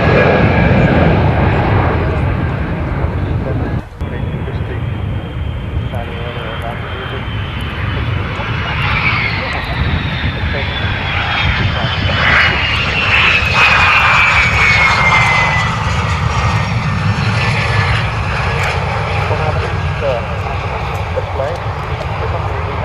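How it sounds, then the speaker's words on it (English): Blackburn Buccaneer jet aircraft at an airshow display, their engine roar building steadily and loud with a rising whine as they approach, under crowd and commentary talk. "the last ever display of the Buccaneers"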